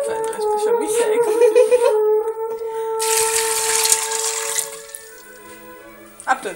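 Water pours into a blender jug while a smoothie is being made, a steady close splashing stream that swells then fades, with a person talking over the start.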